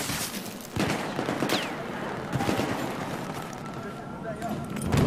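Gunfire in the video game Battlefield 4 on the Siege of Shanghai map, a dense stream of shots and bursts rattling continuously over a busy battlefield background, with a person talking over it at times.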